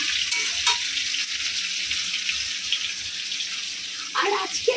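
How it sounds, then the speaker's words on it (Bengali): Large chunks of potato sizzle steadily in hot oil in a pan for a rainy-day khichuri, a continuous close frying hiss with a few clinks of stirring and a brief scraping burst near the end. "দেখুন এই আলু ভাজা হচ্ছে"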